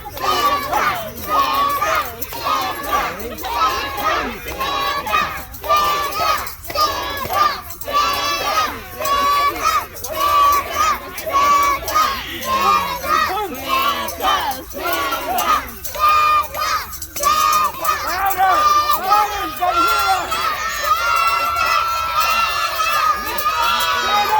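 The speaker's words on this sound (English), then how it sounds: "Everyone start shouting Santa!" At a kids' Christmas party, a crowd of children shouts Santa over and over in a loud rhythmic chant, with excited yells and cheering around it.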